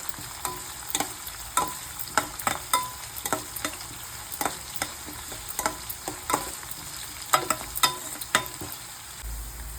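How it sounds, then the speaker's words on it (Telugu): Onion and curry leaves frying in oil in a pan, a constant sizzle punctuated by regular stirring scrapes and taps of a spoon, close and clear with no voices. "కరివేపాకు కూడా అయితే వేసుకొని బాగా ఆనియన్ అయితే ఫ్రై కానివ్వాలండి"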